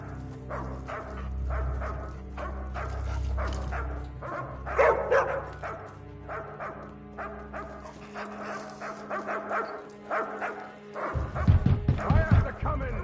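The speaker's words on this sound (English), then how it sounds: "Quiet, you damn dog!" A dog in the video game The Elder Scrolls Online (ESO) barks repeatedly, with yips and whimpering. The barks are clear and fairly close over a low ambient hum, and voiced game dialogue plays in between.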